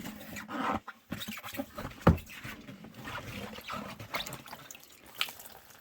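Water splashing and trickling in short bursts into a worm composting bin with paper bedding, close by, with soft rustling and handling noises around it.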